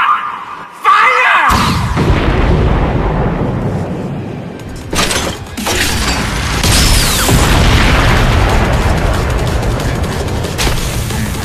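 A huge explosive blast in the No More Heroes 3 video game, a sudden loud boom that rolls into sustained roaring rumble and debris noise, with a second surge midway.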